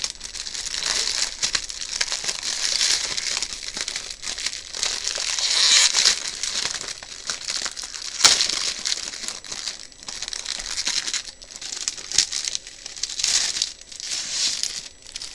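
Plastic packaging around a Stampin' Up Metal Art collection being torn and unwrapped, a steady stream of close, loud crinkling and crackling with brief tearing bursts, no talking.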